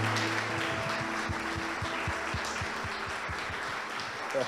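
Church congregation applauding to welcome Pastor Lília at a service, a steady wash of clapping with rhythmic low thumps of music or clapping underneath, sustained and moderately loud throughout.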